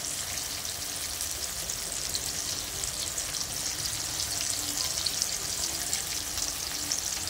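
Bagoong, a fermented shrimp paste, sizzles steadily in a hot pan, a continuous close crackle and hiss holding even throughout with no voices over it.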